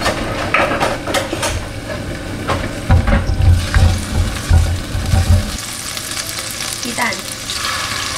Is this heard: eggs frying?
yes